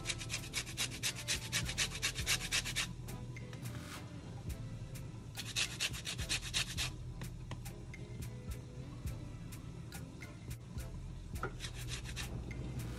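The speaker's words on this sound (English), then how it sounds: "You just zest that in like so, then put a little more." Citrus peel is zested into Christmas cake mix, making bursts of quick, rhythmic scraping strokes separated by short pauses, close and fairly quiet.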